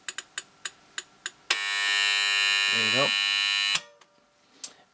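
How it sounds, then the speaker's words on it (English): A 1970s Citizen flip alarm clock, orange plastic-cased and refurbished, rings with a loud continuous electric buzz for about two seconds after a few clicks, then stops; a voice speaks briefly. "turn the alarm on there, so you can hear it."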